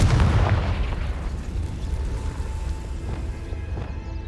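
The Confringo explosive spell in the video game Hogwarts Legacy: a deep booming blast that hits loudly at once, then decays into a long rumbling tail with no talk over it.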